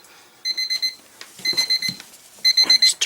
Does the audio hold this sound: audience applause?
no